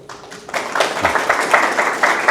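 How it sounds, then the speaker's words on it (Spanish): An audience in a lecture hall gives applause to welcome Dr. Enrique Cueva at a forum on Peru 2025. After a quiet half second, a dense, steady wash of clapping rises and continues at a moderate level. "recibamos con un fuerte aplauso al doctor Enrique Cueva"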